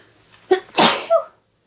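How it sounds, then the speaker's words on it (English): A single close, loud human sneeze: a short sharp inhale, then an explosive burst, with a brief voiced tail as it fades into silence. "oh, I think I'm going to sneeze again"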